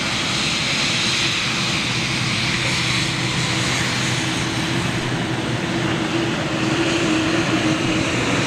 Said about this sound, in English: Oh man, I've got this Qatar Dreamliner right in front of me.